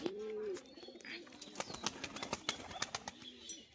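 A Biscuit-colored pigeon coos softly near the start, followed by a flurry of wing flaps, light taps and chirps at close range.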